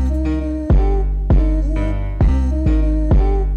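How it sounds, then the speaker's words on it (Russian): A kick drum pattern from a trap beat built in FL Studio 20: deep punchy kicks land at regular intervals over a sustained bass line, loud and close, with no talking. "Теперь кик."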